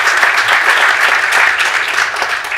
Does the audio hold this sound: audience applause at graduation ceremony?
yes